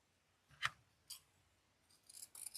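Scissors snipping through folded storm door wreath kit material from the fold to the wire, a few quiet, separate crisp cuts spaced apart with faint rubbing between them.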